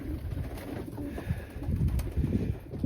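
A young Janssen De Klak racing pigeon, a cock bird held in the hand, gives soft, low, throaty coos close by, a run of repeated murmuring calls over faint rustling.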